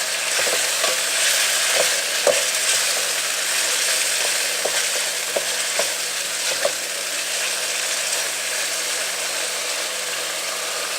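A potato mixture cooks over a low flame with a steady, even sizzling hiss, punctuated by faint soft spoon taps and scrapes at irregular intervals, close by and without speech.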